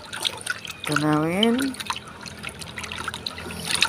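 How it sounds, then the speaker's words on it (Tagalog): Tap water being poured into an MSG plant fertilizer mix, a soft trickle and drip heard under someone talking. "Lagyan natin, punuin natin ng tubig guys"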